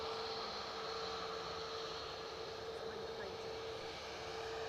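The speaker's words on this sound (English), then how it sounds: "So the plane you can hear is the Ryanair to Nantes." A Ryanair plane bound for Nantes at Edinburgh airport gives off a steady, distant jet engine drone with a faint tonal whine, constant and unbroken across the clip.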